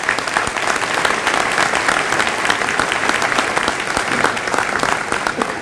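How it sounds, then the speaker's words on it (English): Thick, steady applause from a large graduation crowd, loud and continuous with no break from start to finish. "Give yourself a round of applause."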